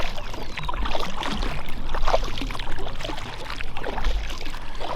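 A kayak paddled across a calm lake in the morning, with soft, uneven splashes and water swishing from the paddle strokes over a steady outdoor wash.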